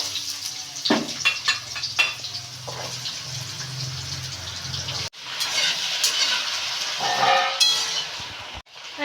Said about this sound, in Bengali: এই যে এখন পেঁপেগুলো তেলের মধ্যে দিয়ে একটু ভেজে নেবে।